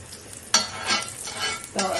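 Moderate sizzling of suran (elephant foot yam) slices frying in a little oil on a hot griddle, with a few scraping or stirring bursts in between; no one speaks.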